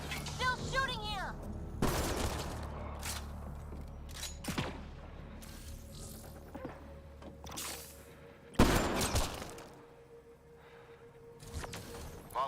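Gunfire in the sci-fi shooter Mass Effect Andromeda: a few loud, sharp bursts of shots spread across the scene, the heaviest near the end, with a low ambient hum and voices talking between them.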